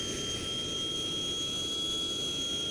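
An F-80 jet engine at full throttle in the flight game Strike Fighters 2 gives a steady, loud whining roar with a high sustained tone over a constant rushing drone, unchanging and without talk.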